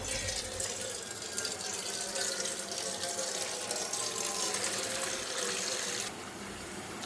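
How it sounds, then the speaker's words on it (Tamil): Tap water runs steadily from a faucet into a cooking pot in a home kitchen, a continuous close splashing gush that holds for about seven seconds, then drops slightly in level near the end. "பாத்திரம் தண்ணி ஃபில் பண்ணிக்கிறேன்."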